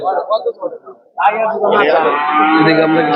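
A cow at a cattle market selling farm and beef cattle lets out a long, loud, close moo lasting about two seconds, following a short stretch of people talking.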